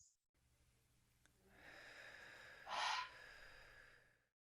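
Slow, deep breath during a guided breathing exercise, a single long airy exhale that swells to a louder rushing peak near the end before fading, close and quiet.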